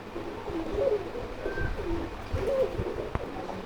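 The male of a pigeon pair gives repeated soft, low coos, several calls in a steady rhythm at close range over faint background noise, with no talking.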